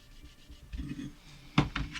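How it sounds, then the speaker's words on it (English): Soft rubbing and rasping strokes of hand sanding with wet and dry paper, a few short scrubs at close range, quiet at first with a sharper burst near the end. "Now I'm just using some wet and dry paper now"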